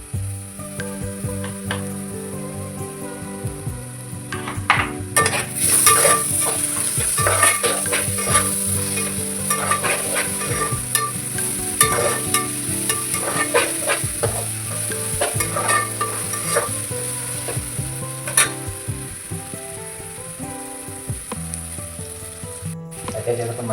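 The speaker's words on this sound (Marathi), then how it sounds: "त्याला ब्राऊन होईपर्यंत आपण चांगलं परतून घेऊ. आता याच्यात आपण टाकणार आहोत 1 चमचा आले लसणाची पेस्ट" Ginger-garlic paste sautéing in a pan while making chicken curry, a steady sizzle with repeated scraping and clinking of a spoon stirring throughout, close and fairly loud with no talk.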